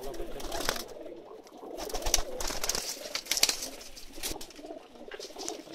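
Pakistani pigeons coo in low, rolling bursts, mixed with the flutter of wings and a faint murmur of voices in the background.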